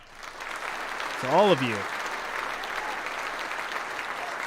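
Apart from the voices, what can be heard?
round of applause from audience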